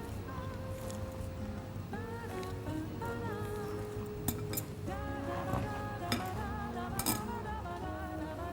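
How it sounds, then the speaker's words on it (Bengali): An egg being mixed smooth by hand in a bowl for chopped liver, soft wet squelching and stirring with a few light clinks of dishware under kitchen background noise, no talk. "যথাসম্ভব স্মুথ করে ডিমটাকে মেখে নিতে হবে।"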